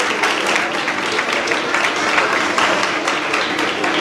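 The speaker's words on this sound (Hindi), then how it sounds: "हम उनके लिए भी तालियां बजाएंगे ताकि उनकी हौसला अफजाई हो सके" Audience applauding event organizers at a church gathering, a steady, dense wash of clapping from many hands that holds evenly throughout without a break.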